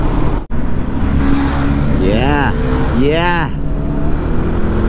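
A motorcycle engine, either a 2019 Dominar 400 or a 2018 Himalayan 400 ABS, droning loud and steady while riding with wind rumble, rising and falling in pitch through gear changes, under a short spoken word.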